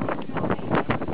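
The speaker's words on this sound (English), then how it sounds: "The wind is this crazy." Strong wind at Pali Lookout on Oahu, Hawaii buffets the microphone in loud, close gusts, a rough rumbling roar that swells and dips over a brief moment.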